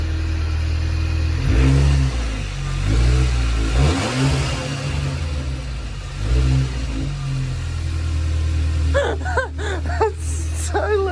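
Audi A5 with crash damage revving in several loud rising bursts over a deep steady idle rumble, with people talking and reacting nearby, followed by a few short high squealing cries near the end.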